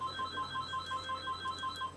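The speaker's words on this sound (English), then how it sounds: "I'm kind of glad the phone rang" A phone ringtone sounds as a steady run of short, evenly spaced electronic beeps, repeating rapidly and fairly faint, with no talking over it.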